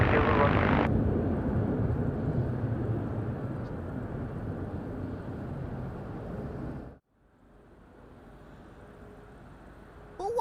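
An airliner goes around at Madeira Island Airport in strong wind, with a loud, broad engine roar that fades slowly and then cuts off abruptly, leaving faint background noise.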